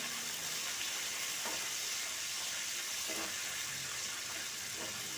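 Chopped green chilies and curry leaves frying in oil in a pan, a faint, even sizzle with a few soft stirring taps, no voices.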